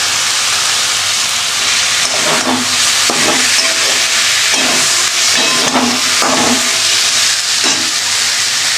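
Lentils sizzling loudly in a pan for a vegetarian dish, a dense steady hiss with several soft scraping pulses from stirring, no voices.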